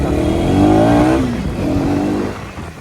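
A motorcycle revs up loudly nearby, its engine pitch climbing then dropping before rising again in a second shorter rev, close and dominant with no talk.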